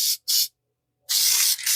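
Filter oil sprayed from an aerosol can onto a foam air filter from a Kawasaki 450 dirt bike, loud and close: two short hissing bursts, a pause, then a longer sustained spray with a brief dip.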